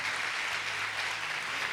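Congregation applauding at a women's church conference service in honour of a youth leader, a steady dense wash of clapping that holds at one level and stays fairly distant, with no voices over it.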